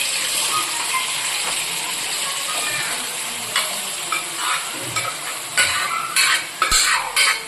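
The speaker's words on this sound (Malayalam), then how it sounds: "അതേപോലെ തന്നെ ബീഫ് എടുത്ത് നമ്മൾ അതിനകത്ത് ഇടാൻ പോവുകയാണ്. എണ്ണയ്ക്കകത്ത് ഇടാൻ പോവുകയാണ്." Beef pieces are dropped into hot oil and sizzle steadily, with scraping stirs and sharp clinks of a utensil against the pan breaking through the frying.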